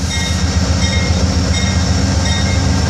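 A loud, steady roar of Amtrak passenger train P092 rushing past Okeechobee Station close by, with continuous rumbling and rail noise throughout.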